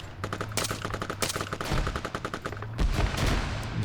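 Rapid gunfire in the military shooter Arma 3, bursts of automatic fire cracking in quick succession with a few heavier single shots, loud and close with no talk.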